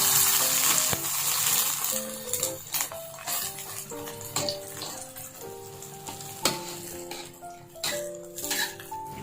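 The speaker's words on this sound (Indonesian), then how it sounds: "aku sukanya nih kalau goreng telur gitu, ini tuh agak garing ya" Egg frying in a pan, crisping and browning, sizzles and crackles steadily up close, with clinks and bursts of spatula or utensil noise throughout.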